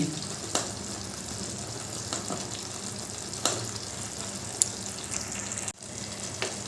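Ghee spooned into a pan of Bengali pumpkin curry, a steady hiss of frying with a few sharp clicks and clatters of a utensil, fairly loud and unbroken.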